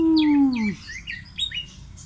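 A captive songbird makes strange calls: a loud falling whistle at the start, then a run of short, twittering chirps and squeaky notes that gradually fade.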